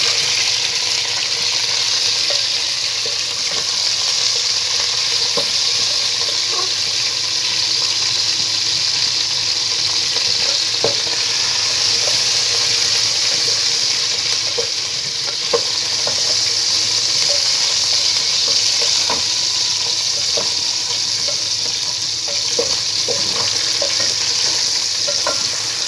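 Chicken pieces frying in a pan with light brown onions, a steady dense sizzle running throughout, with occasional small pops and stirring clicks, no talk.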